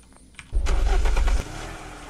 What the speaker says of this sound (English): We got an ambulance here, too.